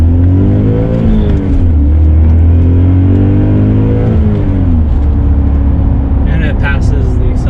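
A BMW E39 M5 accelerates hard on a road at rush hour, its engine note rising and falling loudly and continuously from inside the cabin, with rising harmonic sweeps.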